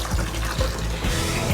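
Cold tap water running over hot fusilli pasta, a steady rushing gush with a few soft splashy bumps, close and fairly loud, no speech.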